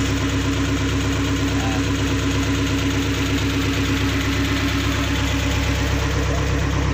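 A surplus Honda K20 K-series engine from Japan runs at a steady idle with an even, rapid mechanical pulse and a rough knocking texture, loud and close, with no talk over it.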